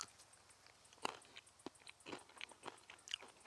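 Someone bites into and chews a fresh, unwrinkled almond while tasting it, giving a few close, soft crunches and crackles spread over a few seconds in a quiet setting.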